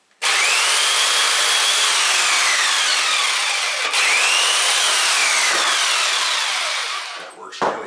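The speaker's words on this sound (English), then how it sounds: "You press the trigger, and this saw blade goes up and down and cuts through the wood" A handheld electric jigsaw with an up-and-down blade cuts through wood, running loud and steady at close range for about seven seconds before winding down and stopping.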